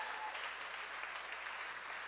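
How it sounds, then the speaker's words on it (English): Audience applause for a reverend at a community gathering, a steady, fairly faint wash of clapping heard from a distance, lasting the whole short stretch without a break. "Give him a loving round of applause."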